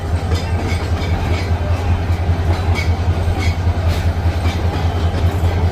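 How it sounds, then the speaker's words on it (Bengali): Jamuna Express intercity train at Sreepur railway station, a loud steady rumble of rolling carriages with a low drone and repeated clickety-clack of wheels over rail joints, continuous and close throughout. "Jamuna express আন্তনগর Jamuna express train এটি তারাকান্দির উদ্দেশ্যে ঢাকা থেকে ছেড়ে আসছে"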